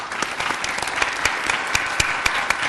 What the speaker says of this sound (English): I would like to invite to give them a round of applause